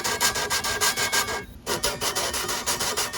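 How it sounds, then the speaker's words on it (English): Steel wool rubs back and forth over the stainless steel frets of a budget electric guitar, a close, rhythmic scratchy rasping in even strokes with one brief pause midway. "I will typically clean and polish the frets using some steel wool"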